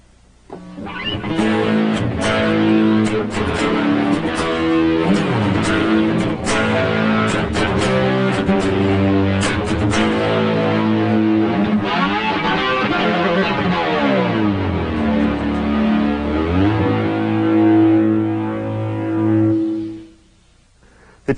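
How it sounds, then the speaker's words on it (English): A thick, gritty synthesizer drone through tube distortion on a Kurzweil K2600 holds a sustained chord for about twenty seconds, buzzing and harmonically rich, then cuts off abruptly. "Here's another example using a tube distortion."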